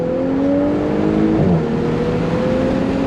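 A JB4-tuned Audi S5 of about 450 hp accelerates hard from a roll, its engine note droning steadily and rising slightly in pitch inside the cabin, with continuous road and wind roar and no talk.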